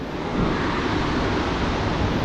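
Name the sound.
ocean waves on a beach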